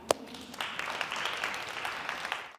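Audience at a women's conference in Sacramento clapping, a modest spread of applause rising after a sharp opening clap and holding steady at mid distance, with no talk over it.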